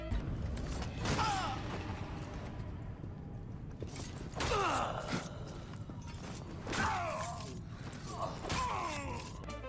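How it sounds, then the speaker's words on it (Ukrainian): Creaking, groaning door opening in Assassin's Creed, with several drawn-out creaks and mechanical clunks spread across a dim, echoing cellar-like ambience, fairly loud against a low rumbling background. "Двері відкриваються і спочатку пахне тільки столітньою мочою"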